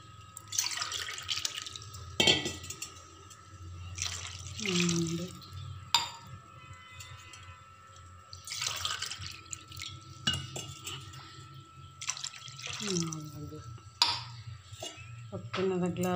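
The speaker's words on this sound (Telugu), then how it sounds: "వాటర్ పోసుకుందాం." Water pours into a pan for making upma in a home kitchen, coming in short splashing bursts with clinks of a glass, separated by pauses.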